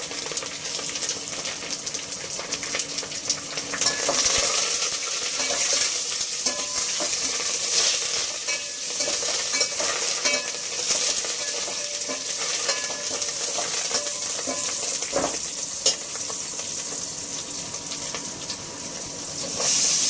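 Tempering for moong dal rasam sizzles and crackles steadily in hot oil, a loud, close, continuous hiss with stirring scrapes throughout and no talk.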